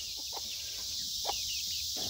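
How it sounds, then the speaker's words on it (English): A mother hen with her two chicks on a farm gives a few short, scattered clucks at moderate distance over a steady background hiss. "there's Mama Chicken and her two little babies"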